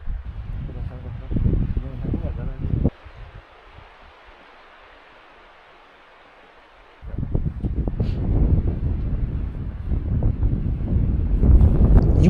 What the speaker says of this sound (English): the wind is getting stronger and stronger